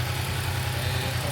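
A motorcycle engine idles steadily and close by, a low continuous rumble that holds even throughout.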